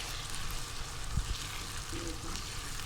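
Whole cumin seeds dropped into hot oil for chicken jalfrezi, a soft steady frying sizzle, faint and continuous, with a small clink partway through.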